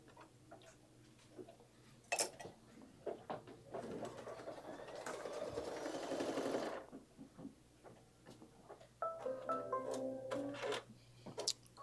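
An embroidery machine stitches a placement line for a beak in a home sewing room, a quiet, steady buzzing run of a few seconds framed by scattered clicks and ticks.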